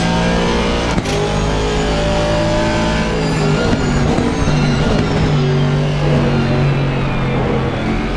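Aston Martin GT3 race car engine in a sim racing game at Imola, a steady loud drone with shifting harmonics as it accelerates through gears, sustained throughout.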